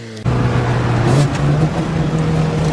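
A car fitted with new aftermarket headers revs loudly up close on a test drive, its engine note rising steadily with crackling pops layered over the exhaust drone.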